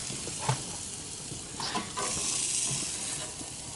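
Low carb tortillas fry in a pan with a steady, close sizzle, broken by a few scraping stirs and taps of tongs against the pan, and no speech.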